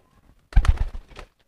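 A racing pigeon gives a short, throaty coo, a quick burst of soft, rolling low notes, close by after near silence.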